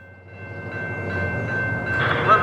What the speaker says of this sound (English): I thoroughly enjoyed starting my day with the sights and sounds of an ES44 AC throttled up on a cool March morning.